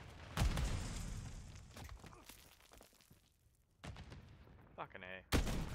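Gunfire in a multiplayer shooter game: sharp broadband shots at the start and end with scattered distant reports between, under excited voices talking.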